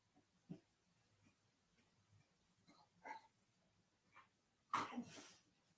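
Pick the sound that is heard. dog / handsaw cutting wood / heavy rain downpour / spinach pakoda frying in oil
dog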